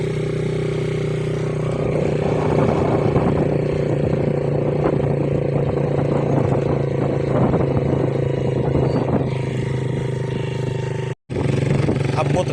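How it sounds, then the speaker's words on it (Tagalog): A motorcycle with a worn-out bearing running continuously, a steady droning engine with rattling clatter layered over it, loud and close, with a brief dropout near the end. "kaya bisag way bearing na itong motor, nag-abot radre."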